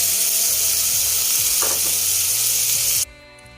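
Beef frying in a pan at home: loud, steady sizzle throughout, with a brief stirring scrape near the middle. It ends abruptly, leaving a quieter background.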